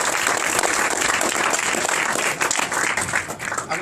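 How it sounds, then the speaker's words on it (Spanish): An audience at a presentation breaks into loud applause, many hands clapping close together in a steady, dense wash for a few seconds. "que le agradezcamos con un fuerte aplauso"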